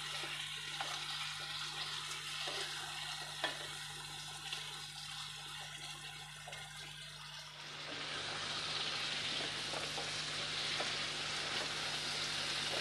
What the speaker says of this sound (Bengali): দিয়ে এবার এটাকে আমি কষাবো, ভালো করে কষিয়ে নেব